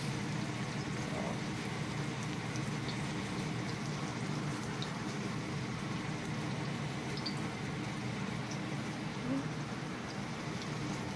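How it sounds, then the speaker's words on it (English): Steady dense sizzling and crackling of a hamburger frying in a pan, continuous and close, with a faint voice underneath. "it's cooking, it's frying now, guys"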